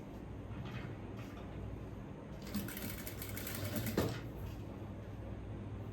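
A sewing machine stitches around the neckline of a front-pleated, V-collar A-line kurti, its quiet, steady mechanical whir running continuously at low level with a slightly busier burst midway.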